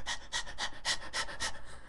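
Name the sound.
person imitating dog-like panting breath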